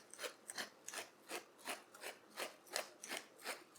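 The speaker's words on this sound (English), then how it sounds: "I'm also going to add some freshly cracked black pepper." Black pepper cracked in a pepper grinder over a Cretan greens filling for hand pies: about ten even, rhythmic gritty rasps, close and fairly quiet, with no talking.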